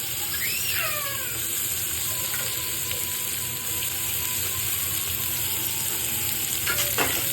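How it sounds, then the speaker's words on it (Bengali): Chopped onions fry in hot oil in a heated kadai, a steady close sizzle with occasional stirring scrapes and a brief squeak, no voices. "এগুলোকে আমি ভালো করে ভেজে নেব।"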